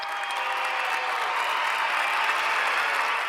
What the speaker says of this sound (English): So we got to give him a round of applause.